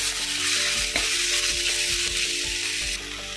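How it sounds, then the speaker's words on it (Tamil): Finely chopped tomatoes sauté in a pan, a dense, close sizzle with a regular rhythm of spatula scrapes roughly twice a second. "தக்காளி நல்லா வதக்கிக்கோங்க"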